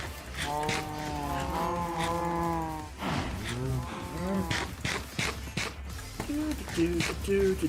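Young calves moo several times in drawn-out, close calls, some overlapping, with scattered thumps and buzzing flies around a farm pen and a person talking in between.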